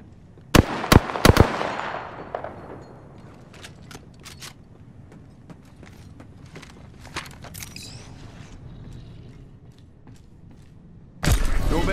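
Gunfire in Apex Legends: a few sharp, loud shots snap out near the start, followed by scattered fainter cracks and clicks, then a sudden dense burst of noise near the end.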